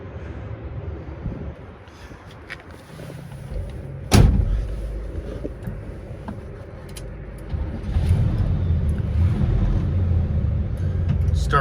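A 1969 Chevelle SS396 with a 350 hp V8 and four-speed manual sits quietly, gives a single sharp clunk partway through, then fires up into a louder, steady low engine rumble near the end, with people talking over it.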